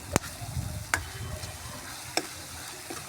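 A tadka of ginger, garlic, tomato and onion frying in desi ghee on a clay stove, soft sizzling under a few sharp clinks of a spoon against the pan.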